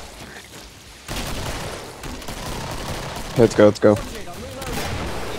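Gunfire from the video game Killing Floor, a steady stretch of shots rumbling beneath the action with a short spoken exclamation breaking in midway.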